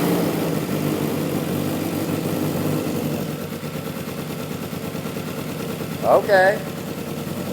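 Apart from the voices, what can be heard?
go kart engine with Corvette engine running during coolant test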